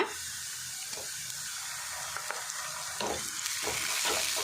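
Sliced onions fry with a spoonful of ginger garlic paste, a dense continuous hiss of sizzling oil with occasional stirring scrapes and pops, close up.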